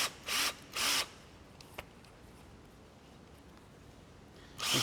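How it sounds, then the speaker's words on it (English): A power drill bores a pilot hole through the edge of a workpiece with two short, loud whirring bursts near the start, a faint click, then near silence before the motor starts again at the end. "If you're going to be putting a fastener at the very edge of your material, drill through for your pilot hole."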